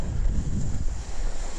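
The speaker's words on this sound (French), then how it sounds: "si jamais le vent continue à tomber." Strong wind roars and buffets the microphone while kitesurfing in the Tramontane, a continuous loud rush mixed with water and wave noise and no voices.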